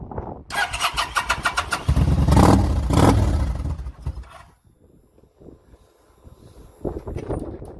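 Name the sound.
Kawasaki VN 900 motorcycle engine starting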